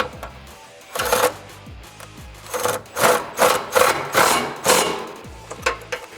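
An impact gun fires in short, rapid ratcheting bursts to tighten 15 mm bolts on step bars for a Ford Bronco, loud and close, with about eight bursts separated by brief pauses.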